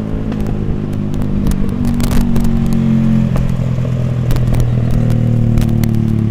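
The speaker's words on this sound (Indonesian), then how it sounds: "Paling males bener nih ketemu motor yang pakai knalpot brong kayak gini." A motorcycle fitted with a loud aftermarket "brong" exhaust rumbles steadily nearby on a road, a continuous throaty drone with rattling and crackling overtones that swells slightly midway and holds for several seconds without talk.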